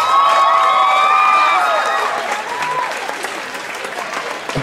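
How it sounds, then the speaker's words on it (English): A crowd at an outdoor hypnotist show during a bike-a-thon event breaks into loud, dense applause with cheering and whistles, then the clapping thins and fades over the last couple of seconds. "Let's give all of a round of applause, Stuck There."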